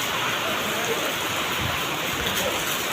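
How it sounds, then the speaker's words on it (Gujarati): Rainwater gushes and floods an area during a sudden downpour, a continuous, loud, close rushing roar with no pauses. "અહીંથી એટલું પાણી આવે છે"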